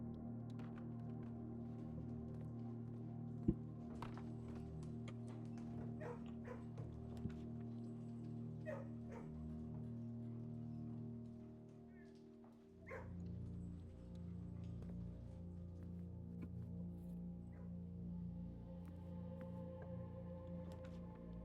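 Dogs in the Kennel room of the video game Blue Prince, heard as scattered barks, yips and whimpers over a constant low musical hum, fairly faint and spread across the whole stretch.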